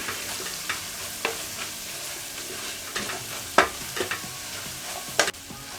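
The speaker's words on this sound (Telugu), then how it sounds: "ఈ కారము ధనియాల పొడి దీనికి బాగా మటన్కి బాగా పట్టే వరకు తిప్పుతూనే ఉండాలండి." Mutton keema coated in chili powder and coriander powder sizzles in a pan. A spoon stirs it with a soft, steady frying hiss, and occasional scrapes and clinks of the utensil stand out, with no talking.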